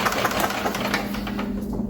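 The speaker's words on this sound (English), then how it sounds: "the engine only runs with your foot on the accelerator" An old auction golf cart's small engine runs with the accelerator held down, a rough, rapid mechanical chugging heard close and steady for about two seconds.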